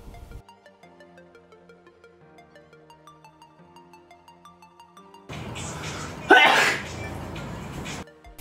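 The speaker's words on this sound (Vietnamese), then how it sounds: "Mãi từ video đầu tiên cho tới bây giờ mới có đoạn hắt xì lại." A single loud, sharp sneeze bursts out after several seconds of soft background music during a holiday glitter-eye makeup session, with the music continuing faintly around it.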